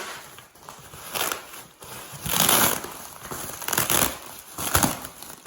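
Bubble wrap crinkles and crackles in repeated bursts while being pulled off a parcel holding a vintage JVC RC-M70LB boombox, loud and close with scattered rustling between pulses.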